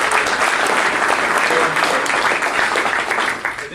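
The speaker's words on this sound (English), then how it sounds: "give me a round of applause." Rotary club meeting audience giving a round of applause, dense loud clapping filling the room evenly before easing slightly at the end.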